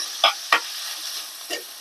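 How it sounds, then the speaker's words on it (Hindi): Sarson ka saag (mustard greens) being stirred in a pan, a few distinct scraping strokes over a faint sizzle, with pauses between them. "अच्छे से मिक्स कर देंगे।"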